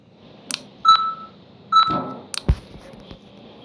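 Electronic beeps from a two-headed beeper item in the Melon Playground video game, a few short tonal bleeps and clicks spaced over a few seconds, clean and close.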